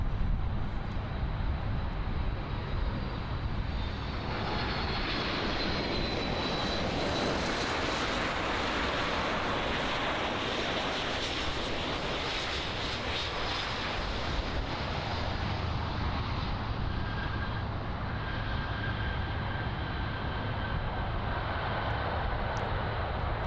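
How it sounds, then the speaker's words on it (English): An American Airlines Boeing 737 MAX arriving on runway 9 at Miami International Airport, a loud continuous jet engine roar that swells and slowly fades, heard from nearby with wind buffeting the microphone. "It's that American Airlines 737 MAX arriving in from Cali, here in Miami on runway 9er."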